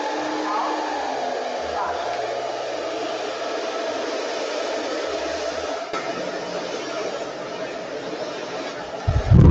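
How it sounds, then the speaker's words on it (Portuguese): A hair dryer running on hot at low speed during a brush-only hair finishing session, a steady continuous whooshing hum throughout, close, with faint chatter and laughter in the background. "Vou trabalhar com secador em temperatura quente, né?"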